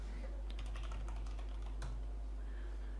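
Computer keyboard keys clack in a quick burst of typing, a run of close, crisp taps followed by a firmer single keystroke, over a low steady electrical hum with no talking.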